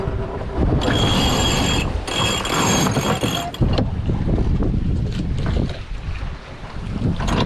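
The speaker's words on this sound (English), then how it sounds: "Okay, let's tack, Rudy." A trimaran sailboat tacks in Baja's Loreto Islands, with heavy wind rushing across the microphone, repeated ratcheting clicks of a winch and rigging, and creaking boat sounds throughout.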